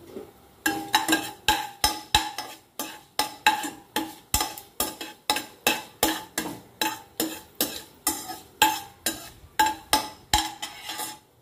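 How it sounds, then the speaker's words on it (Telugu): Red chilli, cumin, fenugreek and mustard seeds tempering in a pan, heard as a steady run of rhythmic utensil scrapes, roughly two per second, close and moderately loud with no voices. "అన్నీ వేసి పోపు వేసుకోవాలి"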